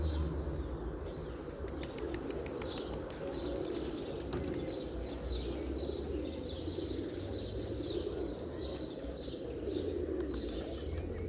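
A huge flock of around 700 pigeons lifts off together, a dense continuous rustle of flapping wings with scattered coos and chirps and no speech.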